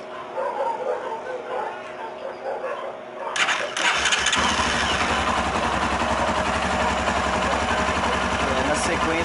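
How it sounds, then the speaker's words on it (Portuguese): A Honda CB 300R motorcycle being serviced cranks and starts, a short starter whir followed by the engine catching and settling into a loud, steady idle, with a dog barking and people talking nearby. "vamos dar partida e ver a frequência."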